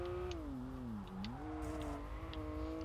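A car drifting in the PS2 street racing game Kaido Racer 2, its engine holding a steady high drone that dips and swells as revs shift through the slide, loud and continuous with faint tyre hiss.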